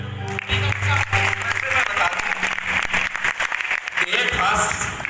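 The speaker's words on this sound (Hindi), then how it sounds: "एक बार सभी से निवेदन है कि पूरा हाथ तालियां बजाकर" Audience at a Hindi poetry recital clapping with full hands, loud close applause mixed with a voice speaking over it, with a sustained tone at the start.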